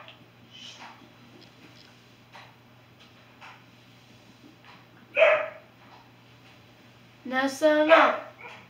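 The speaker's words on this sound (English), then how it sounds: "Sorry guys, my dog's barking in the background" A pet dog barks in the background, two or three bursts of yapping at mid-distance, the last a quick double bark, while a person speaks briefly nearby.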